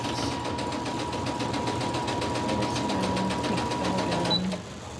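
A sewing machine stitches a crumb quilt block with a fast, steady mechanical whir and rapid needle chatter, loud and close, then slows and stops near the end.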